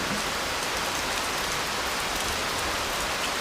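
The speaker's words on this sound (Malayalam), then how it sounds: "മഴ ശക്തി പ്രാപിക്കുകയാണല്ലോ" Heavy monsoon rain pours down in a dense, constant hiss, loud and unbroken from start to finish with no voices.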